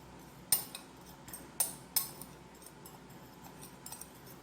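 Dry seasonings of garlic, onion powder, oregano and salt being mixed in a bowl, heard as a few sharp metallic clinks and scrapes of a utensil against the dish, with quiet gaps between the strokes.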